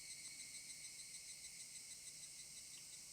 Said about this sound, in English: Only the loud cry of the cicadas remained